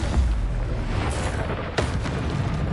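Confringo blasting curse explosions in a Hogwarts video game: a loud, sustained roaring burst with a sharp crack near the end over a dense, continuous blast rumble.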